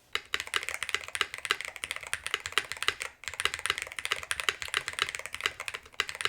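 Steady, fast typing on a DrunkDeer A75 Ultra mechanical keyboard fitted with swapped keycaps, a dense run of close, crisp key clacks with one brief pause midway and no talking.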